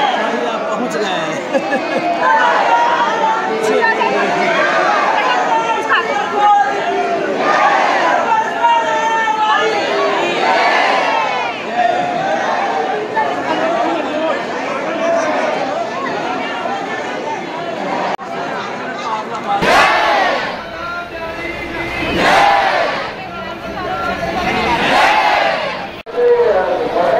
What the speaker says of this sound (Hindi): अभी देखें जी नज़ारा, भीड़ का